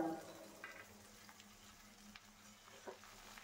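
Chopped ridge gourd sizzles quietly in a small amount of hot oil with mustard seeds and slit green chillies, a faint steady frying hiss broken by occasional soft stirring scrapes.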